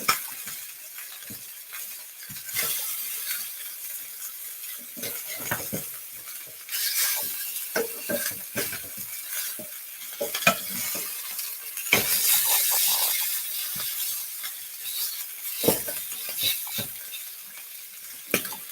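Food sizzles and crackles steadily while pan-frying until browned and crispy, with frequent close utensil taps and scrapes against the pan, no voices.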